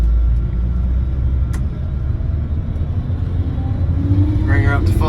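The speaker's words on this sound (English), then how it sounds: "then I have to start the combine up, rev it up" A combine harvester engine turns over and climbs in revs during barley harvest, a loud, close diesel rumble that rises in pitch near the end, with a voice talking over the top.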